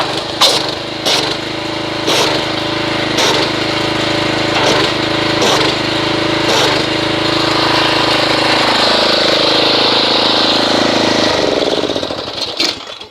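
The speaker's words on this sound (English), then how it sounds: "let's agitate this with the pressure washer and see what kind of foamage we get" A pressure washer runs steadily to foam Adams car wash soap, a loud, continuous engine drone with a series of regular clicking pulses before it winds down at the end.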